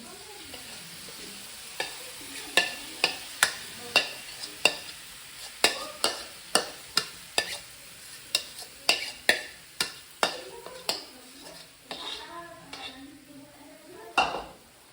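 Food dropped into a hot, lightly oiled pan with little oil, giving a steady run of sharp clinks and scrapes of stirring over a soft, continuous sizzle, close and fairly quiet, with no talking.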